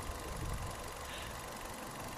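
Ford Ka with the small 1.2 Fiat engine idling, a steady low rumble with a faint tick running through it, heard close and continuous with no talking.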